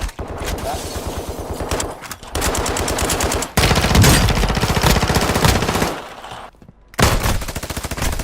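Call of Duty gameplay with bots firing: dense, loud bursts of rapid machine-gun fire in long rattling stretches, broken by short gaps and heavier blasts.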